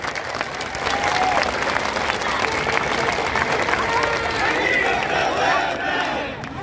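Loud, sustained crowd applause and cheering at a large Hindutva political rally in Ahilyanagar backing Sangram Jagtap, a dense roar of clapping mixed with shouts that swells and holds for several seconds.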